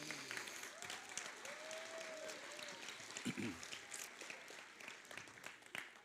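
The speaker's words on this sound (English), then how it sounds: "Can we give them a round of applause?" Quiet audience applause for a sixth grade choir at a school choir concert, a soft, steady patter of clapping, with some voices and crowd murmur mixed in.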